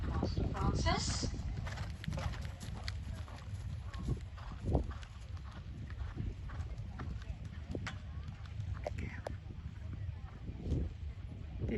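Horse Master Francis, ridden by a rider at a BE100 open eventing competition at Little Downham, walks with clear rhythmic hoof clip-clops on firm ground, close by, with a rider's voice speaking over them.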